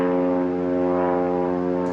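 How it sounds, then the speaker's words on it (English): Propeller airplanes fly overhead, giving a steady, loud, droning engine hum with a strong harmonic whine that holds evenly through the whole stretch, with no talking. "What's with the planes?"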